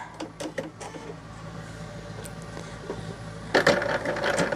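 A sewing machine stitches fabric pieces onto a quilt block, running in short uneven mechanical bursts of whirring and clicking, then a louder, denser run near the end.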